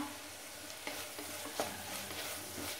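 Onions sautéing in a pan for a quick chicken curry, a continuous close sizzle with faint scrapes of stirring and no voices.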